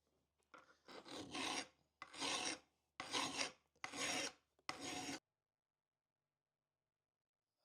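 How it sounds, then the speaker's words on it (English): A file rasps across the top of a TIG weld during vehicle restoration, flattening it in five steady, close strokes with short pauses between them, then silence. "Now I need to file a little flat on the top of this weld"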